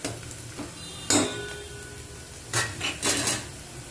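Curry leaves fry in a pan while being stirred, a soft sizzle underneath with a few sharp scraping and clinking strokes of a spoon against the pan, close and intermittent.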